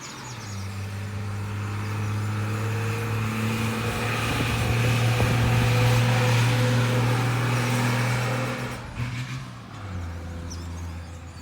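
A bus engine drones past nearby on a road in St. Philip, Barbados, rising and steady for several seconds, then fading as it moves away down the road.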